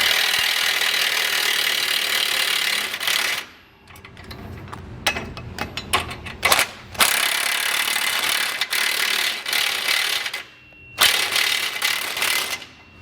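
A power tool zips bolts tight on a Blue Ox base plate kit being fitted to a 2020 Ford F-150, with loud sustained whirring runs broken by short pauses and clicking, close up.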